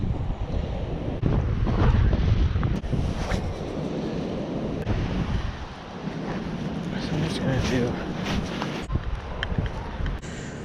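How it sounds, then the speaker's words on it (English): Wind buffets the microphone beside a pond on a cold early-spring day, a continuous rough rumble with gusty surges throughout. "It is a little windy, but not too bad."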